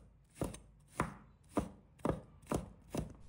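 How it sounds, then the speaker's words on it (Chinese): A knife mince-chops crushed garlic on a cutting board with six evenly spaced, crisp thuds, close and clear with no talk. "接着准备一把大蒜，把它拍碎， 然后切成末。"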